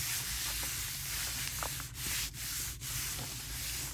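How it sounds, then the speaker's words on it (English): Paper is rubbed by hand over a Gelli printing plate, making a continuous close-up scratchy rubbing with a few brief pauses and strokes, and no voices. "Give this a quick rub."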